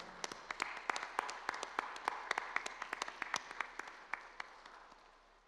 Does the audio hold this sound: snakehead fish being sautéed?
no